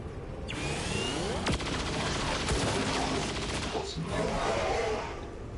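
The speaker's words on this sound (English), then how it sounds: "Let's do Saturation Fire." The Saturation Fire ability in XCOM 2 fires a dense, rapid barrage of gunshots. Sharp cracks overlap into a loud, sustained burst of fire that lasts several seconds.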